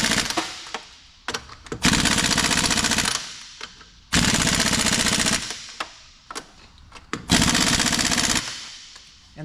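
A power impact tool torques lug nuts while a tire is installed, loud rapid hammering bursts of rattling blows in several separate runs, each a second or two long, with short pauses between.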